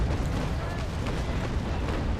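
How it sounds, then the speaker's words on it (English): A warship's broadside of cannon fire in the naval combat game Naval Action, a dense, sustained rumble of overlapping booms filling the whole moment at steady loudness. "this is what a good executed broadside looks like"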